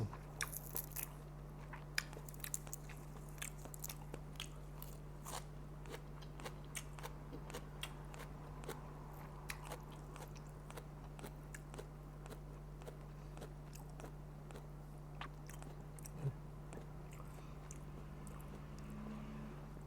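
Crunchy fresh vegetables eaten with mango shrimp-paste chili dip, faint close bites and chewing crunches repeating irregularly over a steady low hum, no talking.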